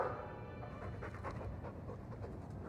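Hawk, a dog in Dragon Age 2, pants softly and rhythmically, a faint, quick breathy pattern over a low background hum with no one speaking.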